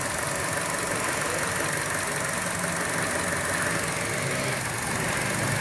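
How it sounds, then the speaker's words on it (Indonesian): A 2017 Chevrolet Trax 1.5L fitted with an HHO and EFIE fuel saver idles nearby, its engine giving a steady, even, slightly knocking hum with no talking. "Mesin sudah hidup."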